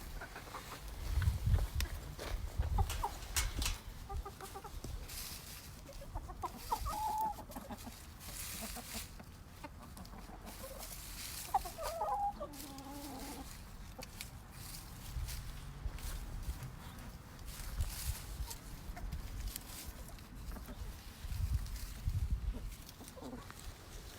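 Chickens clucking softly at close range amid rustling and scratching, with occasional brief calls over a low background murmur.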